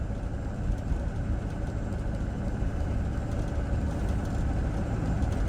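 A box truck with its check engine light on, driving along a back road; steady engine drone and road noise heard from inside the cab, continuous and fairly loud with no talk.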